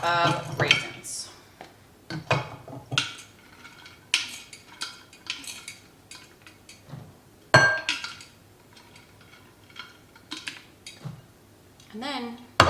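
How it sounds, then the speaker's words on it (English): Flour, raisins and other bread dough ingredients are mixed in one bowl, with irregular clinks and scrapes of a utensil against the bowl and a voice speaking between them. "And then you just mix everything together."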